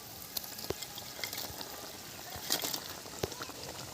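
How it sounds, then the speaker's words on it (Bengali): Fried lata fish dropped into boiling mustard gravy, a steady simmering bubble and sizzle with a few sharp plops and splashes as pieces go in, close by and moderately loud. "ঝোল ফুটছে, এবারে আমি দিয়ে দিচ্ছি মাছগুলো।"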